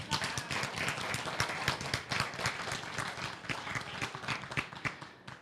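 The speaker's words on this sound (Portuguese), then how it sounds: "E aí eu peço a salva de palmas para todos que estão presentes." An audience at a university education faculty's 50th-anniversary seminar claps steadily throughout, a dense patter of many hands at moderate volume with no pause.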